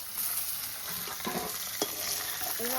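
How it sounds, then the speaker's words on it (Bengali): Pieces of pomfret chanda fish fry in a pan before going into a taro-stolon curry. A steady close sizzle runs throughout, with a few sharp utensil clinks and scrapes. "যেহেতু কচুর গাঠি দিয়ে রান্না করবো, এগুলো মাছগুলো একটু ভালো করে ভেজে নেবো।"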